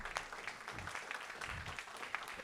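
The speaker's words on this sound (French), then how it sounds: "Vous pouvez vous applaudir" Apprentices in a conference audience applaud themselves at a talk on the DCG accounting diploma, a faint, steady patter of many hands heard from a distance.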